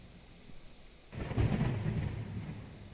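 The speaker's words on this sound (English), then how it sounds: "Thunderous sound as we move into the property." Deep thunder rumbling that breaks in suddenly after a quiet start, loud and low, and rolls on steadily for a couple of seconds.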